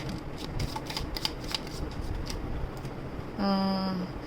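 Oracle cards are shuffled by hand in a run of quick papery riffles and flicks, with a brief tonal beep near the end and no talking.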